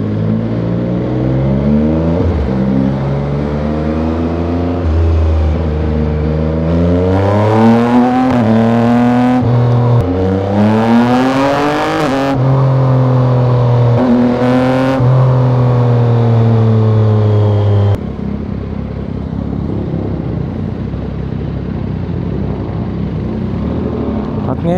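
A 2023 Yamaha XSR900 big bike is ridden through traffic, its engine note rising and falling loudly as it accelerates, shifts gears and revs again, with a steady rumble throughout.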